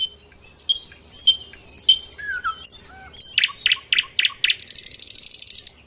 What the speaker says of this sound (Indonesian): suara merdu kicauan burung di sekitar areal tersebut